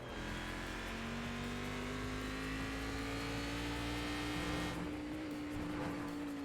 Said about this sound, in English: We're in a V8. I love the angry sounding, just loud engines like this.